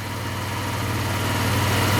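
An old free scooter's small engine idles just after starting with the choke still on, a steady close drone and rattle that slowly grows louder, no voices.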